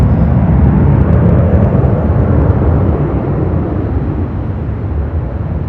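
An Airbus airliner on its takeoff run at LAX gives a loud, sustained broadband jet roar that holds steady and eases slightly toward the end, with no voices.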